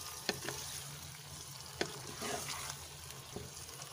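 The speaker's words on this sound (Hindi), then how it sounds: "अब हम इसमें 3 से 4 चम्मच दही शामिल करेंगे। इसको अच्छे से मिक्स करेंगे।" Chicken biryani masala frying in a pan as yogurt is stirred in, a soft continuous sizzle with a few sharp spoon knocks against the pot, fairly quiet and without speech.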